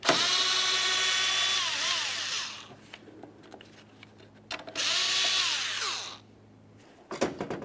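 A power tool spins out a headlight mounting bolt on a GMC Acadia in two loud, whirring bursts whose pitch rises and falls, separated by a quieter pause and followed by short clicks.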